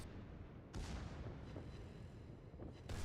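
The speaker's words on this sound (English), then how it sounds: "then my secondaries are going to go off" Secondary guns of a warship firing in World of Warships, the French battleship Alsace, as a few sharp booming reports over a steady rumbling background, loud and close.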